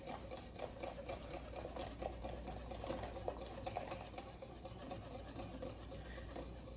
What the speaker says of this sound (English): we're gonna add the coconut milk, and we're gonna continue whisking.